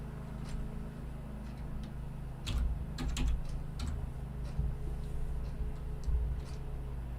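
Fingers typing code on a computer keyboard, light clicking keystrokes in irregular bursts over a steady low hum, close and without speech.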